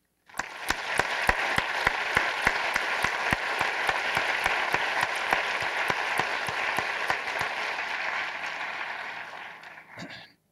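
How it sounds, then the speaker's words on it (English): Sustained audience applause at a medical school white coat ceremony for the Class of 2018, a dense wash of many hands clapping steadily for about ten seconds before fading out at the end. "would ask for one more round of applause for all classes"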